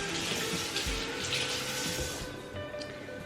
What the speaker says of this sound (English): A little quick rinse on my hands.